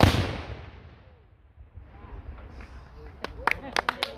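A historic cannon fires during a park demonstration at Harpers Ferry, a loud blast at the start that rolls away into a long fading rumble. Sharp claps or impacts follow near the end.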